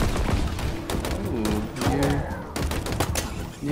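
Rapid gunfire from a video game trailer rattles in dense, continuous volleys with thumps and tonal effects, while people talk over it.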